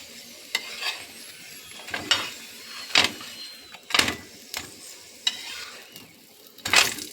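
A cauliflower paratha fries on its second side in a pan, a low continuous sizzle broken by sharp scraping bursts from a spatula roughly every second, with no one speaking.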